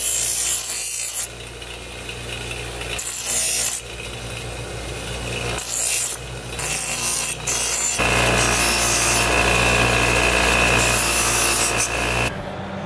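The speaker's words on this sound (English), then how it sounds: "And I'm going to de-bevel." A power tool de-beveling a metal part in a garage, a loud continuous grinding rasp that runs in long bursts with brief pauses and shifts in pitch, with no voices.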